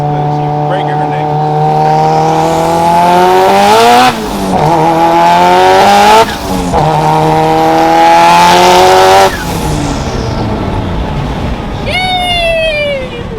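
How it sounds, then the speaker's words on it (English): Car engine with turbo boost revving hard in repeated long pulls, loud and close, pitch climbing and dropping between runs, with a short high whine near the end and voices briefly in the mix. "You guys want to hear some boost?"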